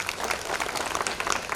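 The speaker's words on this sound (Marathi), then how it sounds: "त्याच्यासाठी आपण एकदा टाळी वाजवूया" An audience at a religious gathering bursts into applause, a busy crackle of many hands clapping at once, fairly loud and sustained without pause.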